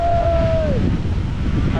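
Strong wind gusts buffet the microphone outdoors beside an old World War II tank, a loud low roar with rumbling, and a brief whistle-like tone fading early.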